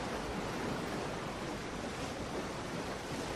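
Steady ocean surf with waves washing continuously, a broad wind-tinged roar that stays loud and even from start to finish with no voices, heard as the backdrop to a guided meditation.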